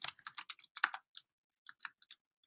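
Rapid typing on a computer keyboard, a burst of close, crisp key clicks followed by a sparser run of taps with short pauses, no talk.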